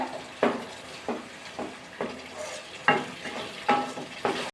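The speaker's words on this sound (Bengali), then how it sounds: "টমেটোর কাঁচা গন্ধটা চলে যাওয়া অবধি একটু বাজা করে নেব মশলাটা" Spiced masala with tomato frying and sizzling in a pan, stirred in repeated bursts of scraping and hissing over a steady low sizzle, close and moderately loud, with no talking.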